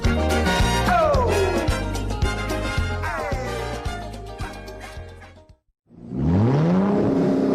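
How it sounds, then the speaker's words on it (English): A car engine revs loudly in a radio advert, with repeated rising and falling vroom sweeps over a pulsing low throb, a brief silence, then another swelling rev. "when I hear the engine make that vroom"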